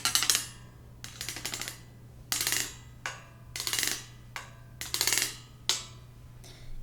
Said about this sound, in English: So I had that fruit and vegetable basket.